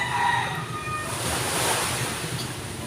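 Sea waves wash onto a shore right in front of a coastal home, a steady close surf roar mixed with gusty wind buffeting the microphone, with no voices heard.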